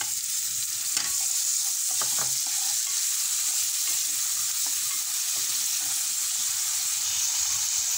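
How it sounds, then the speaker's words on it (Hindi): Cumin seeds and onion frying in hot oil in a pan, a steady bright sizzle close by, with a few brief clinks and stirring scrapes near the start and no talking. "थोड़ा सा ज़ीरा हो गया, इसमें मैं ये प्याज डाल दूँगी।"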